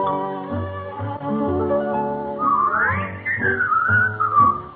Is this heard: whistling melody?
yes